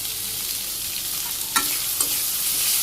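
Onions and potato fry in a pan with a constant hiss of sizzling oil, close by, and two brief stirring scrapes partway through.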